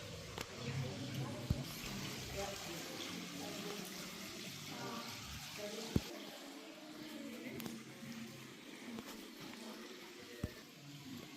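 Water wall fountain in the resort park of Bad Wildungen, a steady broadband rush of falling water running throughout at moderate level, with a few sharp clicks and faint talk nearby.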